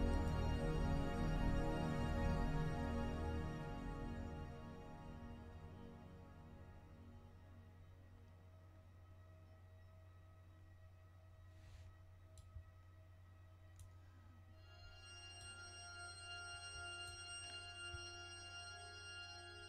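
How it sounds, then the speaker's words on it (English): PaulXStretch plugin output with the original sound stripped away so only its harmonics remain: sustained, stretched tonal layers that fade from a fuller drone into a thinner, ringing bell-like shimmer with faint high chimes, heard alone. "where it takes out the original sound and leaves behind only the harmonics themselves"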